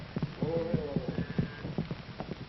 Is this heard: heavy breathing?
no